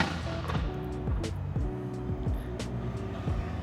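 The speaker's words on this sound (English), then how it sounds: "I hear pops and bangs" A car engine revs and drones nearby while sharp exhaust pops and crackles burst out in quick irregular bangs over the rumble.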